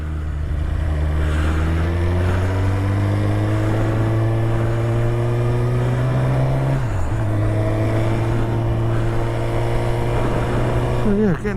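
A motorbike due for its MOT rides along a road, its engine holding a steady drone that dips briefly and then settles again, loud and continuous throughout.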